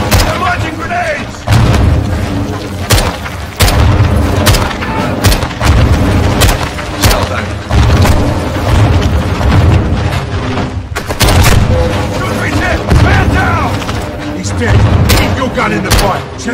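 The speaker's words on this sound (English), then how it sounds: "Incoming! Take cover! They're launching grenades!" Grenade blasts and gunfire from a Modern Warfare 2022 battle, with loud repeated booms and sharp shots hitting every second or two over a dense, steady rumble, while voices shout over the fighting.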